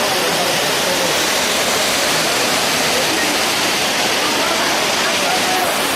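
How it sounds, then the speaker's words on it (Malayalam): Ezharakund waterfall in Kannur pours down onto its second tier, a dense, steady roar of falling water that stays loud and unbroken throughout. "ആ വെള്ളച്ചാട്ടം 2ാമത്തെ തട്ടിലോട്ട് വരികയാണ്"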